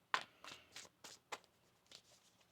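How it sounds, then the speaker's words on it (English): A deck of tarot cards being shuffled in a quiet room, heard as a run of about eight soft, papery riffling bursts spaced roughly a third of a second apart, close and faint. "One more shuffle here."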